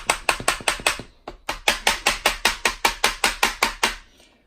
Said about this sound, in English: just with a soft tip hammer, just pound this up.